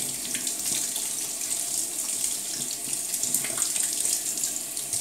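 Tap water runs steadily from a faucet over a brand-new brush in a sink, rinsing through the bristles with a continuous close, even splashing hiss and no voices.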